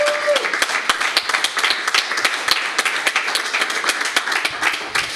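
Church congregation applauding after a sermon, dense loud clapping that carries on steadily, with a brief tone at the start.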